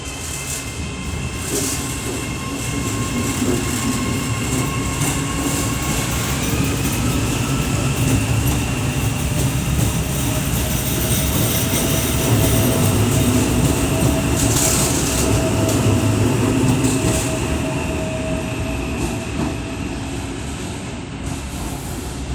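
An Auckland AM class electric train rolls along with a continuous loud interior rumble and hum, steady wheel noise and faint rail clicks throughout, with no pauses or talk.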